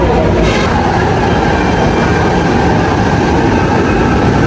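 An MRT metro train rolls along steadily with a constant loud rumble and rattling wheel noise, filling the whole clip with no voices.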